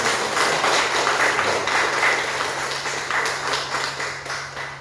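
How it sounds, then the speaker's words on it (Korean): A church congregation at a Sunday service applauds, with a steady spread of clapping over a low constant hum that fades slightly toward the end. "다시 한번 박수 보내주십시오."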